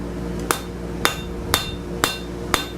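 A hammer strikes hot metal on an anvil while forging a gothic door knocker, five evenly spaced ringing blows about half a second apart over a steady background hum, close and loud, with no talking.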